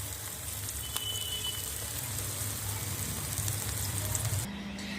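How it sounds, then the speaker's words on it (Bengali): Two eggs fry in a pan with a constant, close, even sizzle, like light rain on a hot surface, running steadily throughout without any voices. "লাল করে ডিমটাকে ভেজে নেব এরকম করে আমি বন্ধুরা দোনোটা ডিমকে ভেজে নেব"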